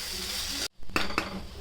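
Onions and tomatoes sizzle in a hot pan for a curry, the frying hiss broken by a brief pause and a couple of soft spoon scrapes as the mixture is stirred.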